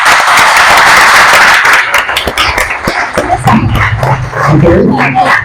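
Loud applause from an audience fills the first couple of seconds, then fades as a voice starts speaking.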